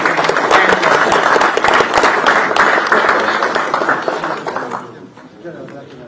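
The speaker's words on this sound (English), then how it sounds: "Another round of applause" Conference audience applauding for several seconds, a dense steady patter of many hands that thins out and fades toward the end, with some crowd murmur underneath.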